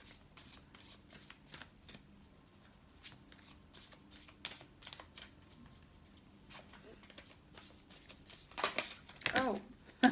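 A deck of tarot cards is shuffled by hand in soft, repeated riffles and flicks, quiet and close, with a brief louder flurry near the end and faint talk in the background.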